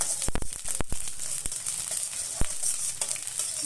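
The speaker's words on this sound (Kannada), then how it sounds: "ನೋಡಿ, ಬೆಳ್ಳುಳ್ಳಿ ಸೇರಿಸ್ಕೊಂಡಿದ್ದೀನಿ. ಇದೊಂಚೂರು ಫ್ರೈ ಆಗಲಿ." Garlic and ginger sizzle steadily in a hot pan, with a busy crackle of frying and a few sharp clicks and scrapes of stirring.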